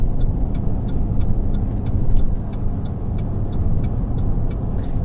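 A GMC vehicle driving on the road, with a steady, low engine and tyre rumble that stays constant and close throughout, plus faint regular ticking on top and no voices.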